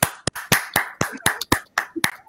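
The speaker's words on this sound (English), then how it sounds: "an even bigger round of applause" Applause after a magic trick, a handful of people clapping in quick, uneven bursts, fairly close and fading out after a couple of seconds.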